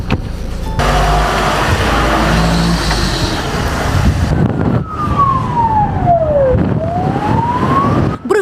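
An ambulance heads out on an emergency call in Lutsk. A loud engine and traffic rumble builds, then a close wailing siren sweeps down and back up in pitch, with no voices.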